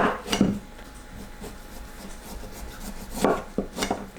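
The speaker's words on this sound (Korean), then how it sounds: "꼭지 부분을 잘라주세요." A knife cuts through the stem of a microwaved kabocha squash on a board: a few sharp scraping, crunching strokes near the start and end, with quieter rubbing between, close and alone.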